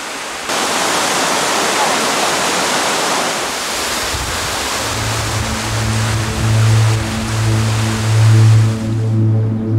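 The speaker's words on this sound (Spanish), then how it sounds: "las ardientes cascadas que desde tiempos inmemoriales fluyen por los riscos de Germuk" Broad steady roar of hot waterfalls pouring down the cliffs of Jermuk, Armenia, a continuous rushing wash with a low droning hum rising beneath it in the second half.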